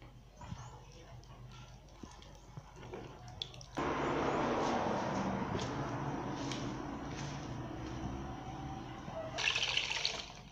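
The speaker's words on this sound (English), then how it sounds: "I'm going to sieve it the final time." Thick tiger nut pulp being sieved for a homemade tiger nut drink, with a steady wet trickle and drip of liquid running through the mesh, louder and fuller after the first few seconds.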